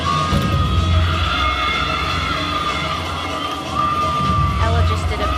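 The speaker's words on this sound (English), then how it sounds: "they're in front of a home crowd" A loud home crowd cheers and shouts throughout an Alabama gymnastics floor routine at a regional final, a sustained roar of yells and whoops with brief swells.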